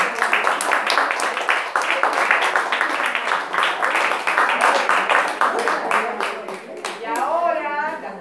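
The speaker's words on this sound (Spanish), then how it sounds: "Bueno, un aplauso." A small audience at a SADE special event gives steady, close applause with distinct individual claps throughout, ending with a brief voice near the close.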